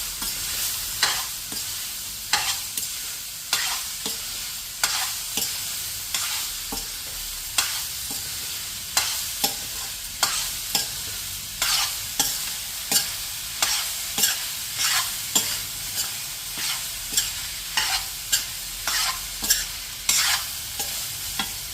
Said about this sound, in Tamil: அடுப்பை சிம்மில் வச்சுட்டு கிளறி விட்டுடலாம்.